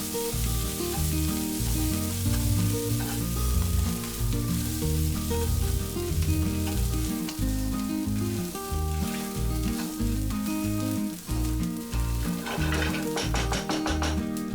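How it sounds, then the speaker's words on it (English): Spices, grated coconut, chopped coriander leaves and turmeric frying in a pan for Goan chicken xacuti, giving a constant hissing sizzle under steady music, with sharper crackles building near the end. "fry it for few seconds"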